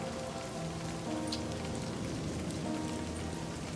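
Steady rain falls in a video game scene, a dense, even hiss of drops on surfaces that continues without a break.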